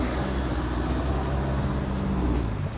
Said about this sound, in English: feel free to accelerate off the MAXTRAX ramps